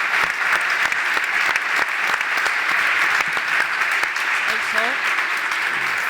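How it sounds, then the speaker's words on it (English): Sustained applause from a conference audience at a medical cannabis round table, steady and dense across the room for several seconds, with a voice briefly heard near the end. "I will ask a clap for Carola and all the patients"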